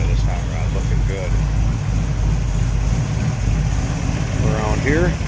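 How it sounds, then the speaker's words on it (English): A 1933 Plymouth five-window coupe street rod with an Edelbrock intake idles steadily with a low, even rumble throughout, under occasional speech. "Engine sits nice and still running."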